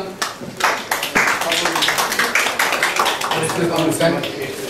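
An audience applauds a couple honoured for 50 years of marriage at a municipal ceremony for elderly residents, with steady clapping under a speaker's voice throughout.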